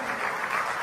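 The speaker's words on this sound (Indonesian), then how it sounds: "Kita berikan tepuk tangan untuk tim yang bertugas di sana." A crowd gives a short round of applause for a team on duty, a dense, even patter of many hands heard for under a second.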